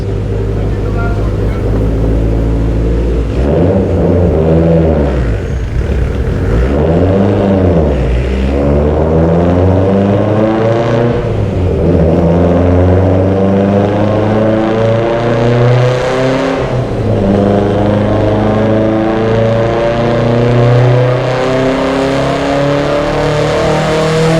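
Mitsubishi Evo X with a sleeved 2.0 engine, Precision 6870 turbo on a Sidewinder kit and GSC S3 cams, revving hard on a dyno, loud repeated rising pulls with rough, scratchy engine notes and sweeping harmonics, close up.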